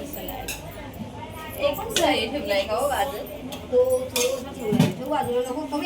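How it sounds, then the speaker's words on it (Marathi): A koshimbir salad being mixed in a bowl gives off scattered clinks and scrapes of utensils against dishes, mixed in with the chatter of people talking nearby. "कोशिंबीर मिक्स करायला घेतलंय ते"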